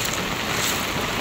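Heavy pouring rain and flood water in front of a house, a dense, loud, unbroken roar of rushing water and downpour close to the microphone, no talk.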